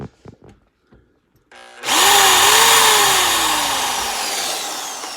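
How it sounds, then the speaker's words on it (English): A power drill bores through the steel dash of a Land Cruiser FJ60 during a grab bar install. A few light clicks come first, then the drill whines up loud and close and runs steadily, its pitch slowly dropping. "because you are drilling through steel, you want to make sure you're wearing some safety glasses while you're doing this"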